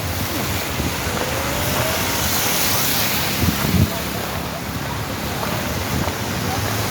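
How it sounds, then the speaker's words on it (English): Heavy rain in a Monrovia city street in the rainy season: a loud, steady wash of broadband hiss and roar with gusty swells, and faint voices in the background. "It rains too much."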